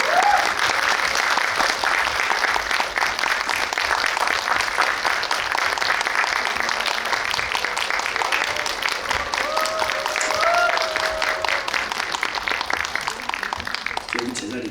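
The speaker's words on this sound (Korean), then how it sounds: "큰 박수 부탁드리겠습니다" Cinema audience at a Megabox COEX guest visit screening applauding as the director, actress and music director are welcomed, loud sustained clapping for the whole stretch, with a few faint voices and whistle-like cheers mixed in.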